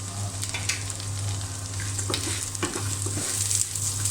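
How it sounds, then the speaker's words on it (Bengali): Kumro bori (sun-dried lentil-pumpkin dumplings) fry with chopped garlic and onion in a pan, a constant close sizzle with a few spatula scrapes and knocks as the pieces are stirred, no talking. "রসুন কুচি আর পেঁয়াজ কুচি ভালো করে একটু ভেজে নেব এখানে আমি দিয়ে দিলাম কুমড়ো বড়ি"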